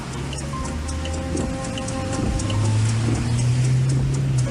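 Rain falls steadily over slow city traffic, with a broad hiss of drops and tyre spray, a low engine drone swelling in the second half and a few faint tonal hums from passing cars.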